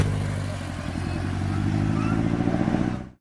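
A motorcycle with a loud modified exhaust rumbles loudly and steadily with a throaty, pulsing note, rising slightly before cutting off abruptly at the end.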